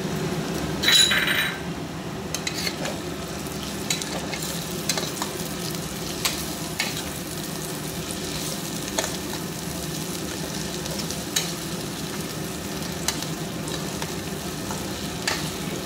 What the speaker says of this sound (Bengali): আলুটা একটু ভেজে ভেজে নেব, কারণ আলুটা আগে থেকেই সেদ্ধ করেছি।